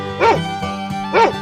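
A dog barks twice in a 3D animal slide game, two short close bow-wow barks spaced about a second apart over a steady musical background.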